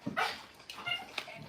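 A big dog barks and yips indoors in a few short bursts, close by and moderately loud, in a home kitchen.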